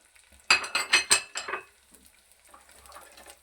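Green chillies and garlic hit hot oil for a ridge gourd and egg masala, giving a burst of close sizzling crackles with clinks of a utensil for about a second, then quieter, softer frying.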